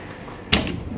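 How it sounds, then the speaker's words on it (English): A hotel room door shuts with a single sharp knock and click at close range, followed by a brief rattle as it settles, in an otherwise quiet room. "Let me lock this door up again."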